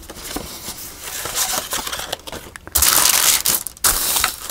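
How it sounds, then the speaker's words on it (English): Wax paper being handled and crinkled for a medieval-romance junk journal, giving loud rustling and crackling throughout, with sharper, brighter bursts toward the end and no talking. "This is that wax paper stuff that I've been using."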